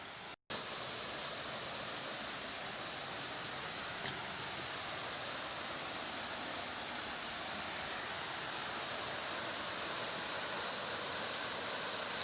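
Goit Stock Waterfall in Cottingley Woods near Wilsden roars steadily and close, a dense unbroken rush of falling water throughout with no voices.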